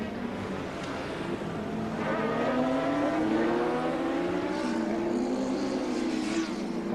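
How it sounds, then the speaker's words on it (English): Suzuki RGB racing motorcycles pass during the 1984 Gracefield street race, their engines rising and falling in pitch as they roar by under steady broadband noise from the crowd and course. "Paul Ridden starting to get the RGB wound up just a little, but still back in 4th place."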